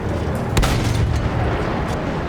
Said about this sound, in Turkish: Her yer yıkılıyor. Yani her şey patlıyor.